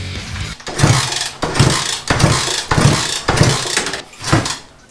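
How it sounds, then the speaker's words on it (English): A Honda Dream motorcycle engine is cranked over for a compression test, producing a run of about six rhythmic chugging pulses, close and fairly loud, each a short burst of mechanical churning without the engine catching. "let's see if it actually has compression"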